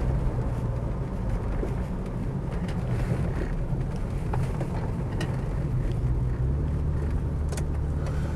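BMW 635CSi automatic cruising at motorway speed, a steady low engine and road drone with wind rush running continuously and fairly loud from start to finish, no voices.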